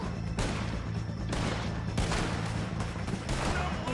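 Gunfire in the Red Dead Redemption 2 video game: a few sharp, loud shots spaced irregularly amid a busy, noisy game soundscape.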